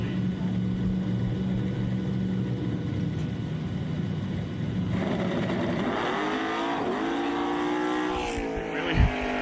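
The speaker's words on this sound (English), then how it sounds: "Big wheelie out of Don Gatlin in the Chevy 2 on a solo rip on the left-hand side" A Chevy II drag car driven by Don Gatlin launches into a big wheelie on a solo pass. Its engine is loud and close, climbing sharply in pitch over a steady track-side roar.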